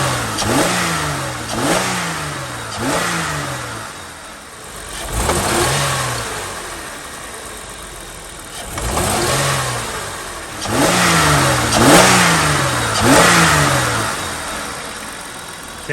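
Holden GM 3.8 engine freshly fitted with new coil packs, revved repeatedly in short bursts from idle, each rise and fall clear and close, running smoothly between blips with no talking.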